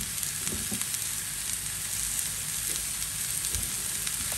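Steady sizzling of zucchini sautéing in a pan, with occasional soft scrapes and clinks of stirring throughout.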